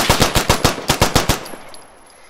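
The CZ99 pistol in a video game fires a rapid burst of about nine loud, sharp shots in quick rhythm, then stops with a faint tail of silence.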